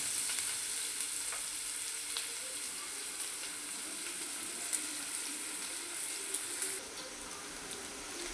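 Onion frying in a pan, a steady hiss of sizzling oil with occasional faint clicks, low and even throughout, ending slightly quieter, no voices.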